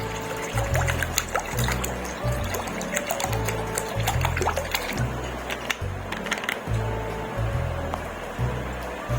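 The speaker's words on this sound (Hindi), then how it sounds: "हस्बे जरूरत चिल पानी शामिल कर देंगे।" Chilled water trickles and pours steadily into a glass or jug of sattu sharbat, a continuous liquid splashing with faint clinks, close by with no talking.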